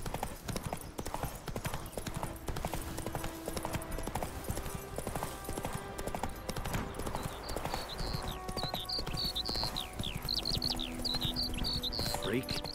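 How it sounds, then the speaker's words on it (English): A horse gallops in The Witcher 3 video game, its hooves clip-clopping steadily and rapidly throughout. A whinny and some game effects come near the end, and a voice speaks over it at times. "that's really cool how the horse just auto runs"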